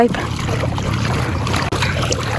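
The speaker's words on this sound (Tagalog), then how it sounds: "Sakay na po tayo sa bangka." A wooden boat (bangka) sits on calm water in the provinces, with loud wind buffeting the microphone and soft water movement for a couple of seconds, and a short dip partway through.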